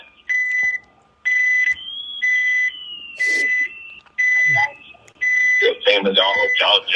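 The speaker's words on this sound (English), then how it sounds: "that beeping noise?" Repeated high electronic beeps sound in an even rhythm, close and clear, with a voice speaking briefly at the end.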